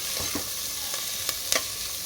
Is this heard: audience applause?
no